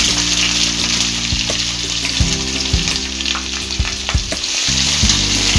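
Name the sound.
onions frying in ghee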